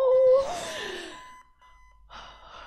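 An alarm clock rings out loud in Five Nights at Freddy's 4, a bright electronic tone that opens strongly, sweeps downward and fades, then after a short pause a second, quieter burst follows.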